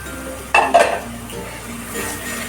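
Prawns stirred into masala in a metal pan for doi chingri, a few scraping, clinking spoon strokes over a soft sizzle, close and alone with no talk.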